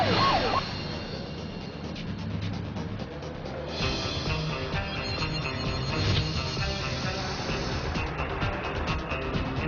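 A police car siren wails at a distance under rumbling street and traffic noise, fairly faint and continuous, with no clear voices.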